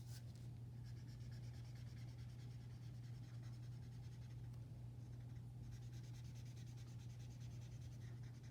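Continuous scratchy rubbing of a marker moving back and forth across paper, close and quiet, over a steady low electrical hum.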